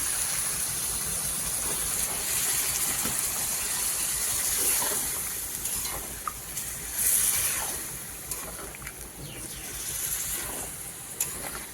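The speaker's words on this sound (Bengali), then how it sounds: "ঝিঙেটা দিয়ে অল্প ভাজা হয়ে গেছে এবারে দিয়ে দেবো পোস্ত বাটা" Ridge gourd sizzles steadily in a pan, a dense crackling wash with small surges as poppy seed paste goes in, with no voices.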